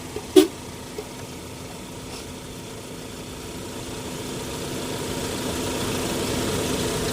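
A short, sharp car horn toot sounds once near the start, followed by a low idling engine rumble that slowly grows louder.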